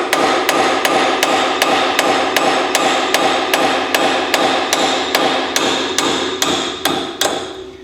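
A hammer beats steadily on wheel studs in a steel hub of an older Polaris Ranger 500, roughly two ringing metallic blows per second, loud and close, the rhythm holding for several seconds before the last strikes trail off.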